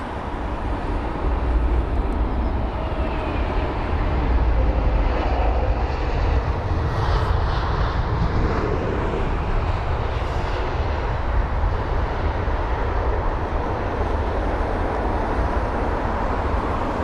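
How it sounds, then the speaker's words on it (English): An Airbus A320neo touching down at London Heathrow, a steady broad roar of jet engines and rushing air that holds loud and even throughout, with no voices. "That Airbus A320neo absolutely greasing that touchdown."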